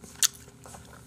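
Sharp crunching bites into crispy air-fried pork, two short loud crackles spaced about a second apart, close to the microphone with quiet in between.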